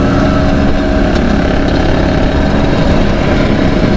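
A Vespa scooter engine runs on the Bali Mandara toll road, a loud, continuous close-up drone with a rough, buzzing low rumble and no break.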